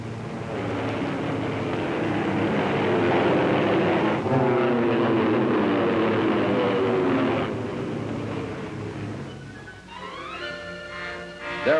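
Combat propeller airplanes flying, a loud sustained engine drone that swells and shifts in pitch, ending with a rising whine as one passes.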